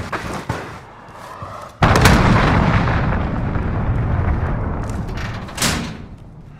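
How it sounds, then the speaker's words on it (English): In Call of Duty: Modern Warfare, an enemy cruise missile strike hits with a sudden loud booming explosion that rumbles and decays over several seconds, framed by sharper gunfire cracks before and after. "Enemy cruise missile incoming."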